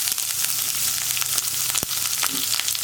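Dried red chillies, curry leaves and crushed ginger, garlic, pepper and cumin sautéing in hot oil for a buttermilk curry, a loud continuous close sizzle with a few stirring scrapes.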